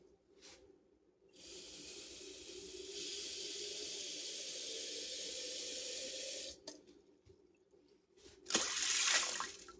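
Water pours steadily into a pot of beans for several seconds, a soft hissing stream, followed by brief clatter and a splashy burst near the end, with no talk.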